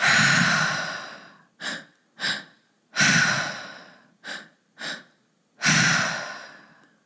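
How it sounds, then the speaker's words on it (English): Three-part mouth breathing that fills the belly and then the chest: long, airy exhales alternate with pairs of short, sharp inhales, close and clear in a quiet room. "We are going to use the tri-active breath, that 3-part breath all through the mouth, as though we are breathing through our belly, our chest, and then exhaling out the mouth."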